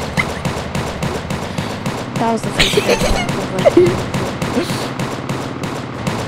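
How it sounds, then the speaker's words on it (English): Rapid, constant gunfire from a Roblox video game rattles on in dense bursts, mixed with game noise and a young player's voice talking over it. "if you hear gunshots, constant gunshots coming towards you, that means I'm near."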